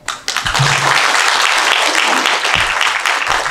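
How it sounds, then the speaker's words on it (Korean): Loud, sustained audience applause at a bodybuilding contest ceremony for the 30th Mr Gangwon competition, a thick clapping wash that swells quickly and holds throughout. "삼척시 보디빌딩협회 이병우 회장님께 다시 한번 큰 박수 부탁드립니다"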